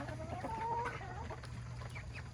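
Naked neck backyard chickens cluck softly and intermittently at moderate distance over a low, steady background hum.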